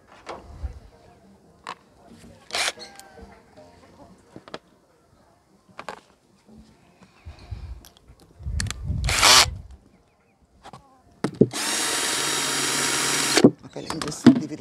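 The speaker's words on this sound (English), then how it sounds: "Let me just quickly make a few holes for drainage." A power drill bores drainage holes in a plastic container, a loud steady whir lasting about two seconds near the end, preceded by scattered handling knocks and brief speech.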